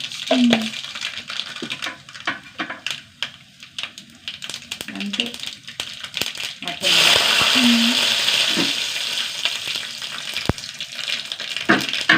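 Mustard seeds and fenugreek frying in hot oil give a crackling sizzle that swells loudly partway through, with scattered pops and clinks of a pan beforehand.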